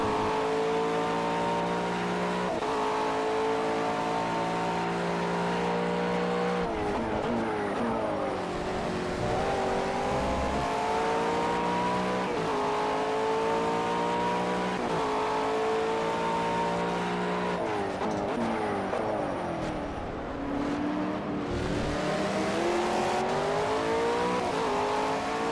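Race car engines in the Project CARS video game, with a BMW close by. A loud engine climbs through the revs again and again, dropping back at each gear change or braking zone, steady and continuous, with no talk.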